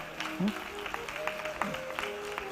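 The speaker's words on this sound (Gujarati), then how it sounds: "તાળીઓથી વધાવો બધાય" A seated audience at a Shrimad Bhagwat Katha religious discourse breaks into dense, sustained clapping, with a speaker's voice carrying over the applause through the hall.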